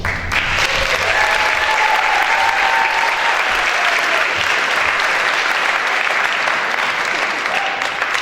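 An audience at a Harvard evening lecture claps continuously, a dense, steady wash of applause at full strength throughout, with faint voices underneath.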